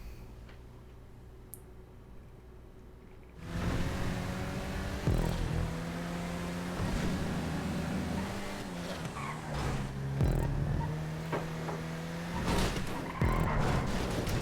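Jester race cars tearing around a track in GTA 5, engines droning and revving with pitch-shifting whines, tires squealing and ticking clicks throughout after a quiet opening few seconds.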